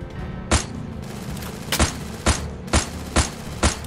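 AC-80 rifle fire in the Free Fire battle royale game: six sharp, loud single shots spaced irregularly over a steady background bed of game ambience, with no talking.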